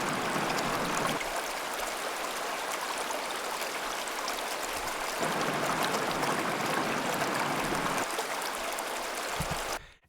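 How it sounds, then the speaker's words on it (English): A river flows in a steady, broad rush of moving water, constant and fairly faint, with no voices, ending abruptly. "This is not my favorite recording of a river"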